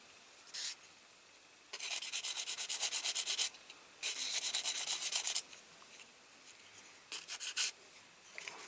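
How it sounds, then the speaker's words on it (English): A nail file rasps over the screens of a Corgi Ford Thames Airborne caravan model, with close, dry scratching strokes in rhythmic bursts separated by short pauses. "I thought I'd sand it up a bit with this nail thing."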